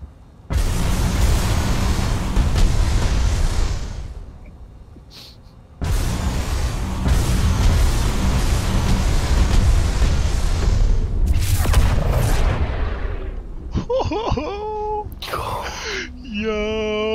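A Ballista weapon firing in Star Citizen: two long, loud rumbling blasts, each sustained for several seconds with a deep roar, followed by shorter electronic bursts and a voice speaking near the end.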